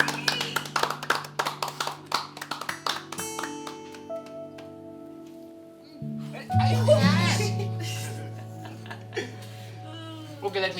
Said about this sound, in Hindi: तुम लोग ताली बजा दो